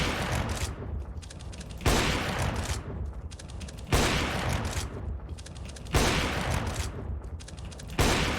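Rapid automatic gunfire during CS:GO aim training comes in four sustained bursts roughly two seconds apart, each starting with a sharp attack and running into a dense, continuous rattle.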